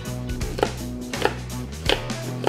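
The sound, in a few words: knife scoring Berkshire pork ribs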